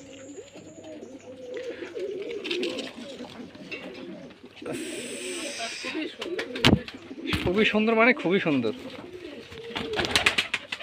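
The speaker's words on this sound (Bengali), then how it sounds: "অসাধারণ একটা কবুতর" Pigeons coo in low, repeated warbling calls at a pigeon farm in Bangladesh, close by and steady beneath someone talking, with sharper rustles and clatter breaking in near the middle.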